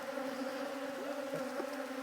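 Honey bees buzz steadily in a beehive during a split, with bees being shaken into a box. A close, continuous buzzing drone holds level throughout, alone.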